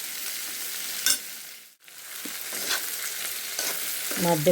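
Cauliflower frying in a pan while being stirred, giving a continuous close sizzle broken by a few scraping stirs and short clatters.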